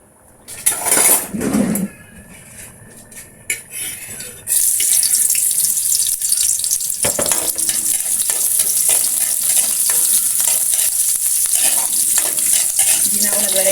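Onion hitting hot cooking oil for Filipino ginisang ampalaya: a few quiet clatters and scrapes, then a sudden loud sizzle that holds steady and bright, with continuous stirring underneath.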